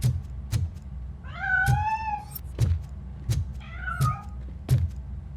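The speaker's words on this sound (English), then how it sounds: "That cat must be hiding inside." A cat in the video game RoboCop: Rogue City meows twice, loud and close, between regular thumping footsteps.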